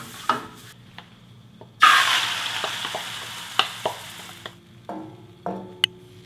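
Food sizzles and fries in an oiled pan over low heat, with a steady hiss and intermittent taps and scrapes of a utensil stirring, close up and moderately loud.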